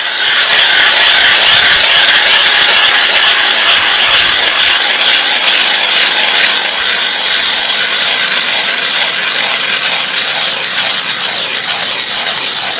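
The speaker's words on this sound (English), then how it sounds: "I'll drill a hole here and see how long it takes me." A steady, grinding scrape of a hand auger boring through ice, continuous and close, with a rough rhythmic rasp throughout and no voices.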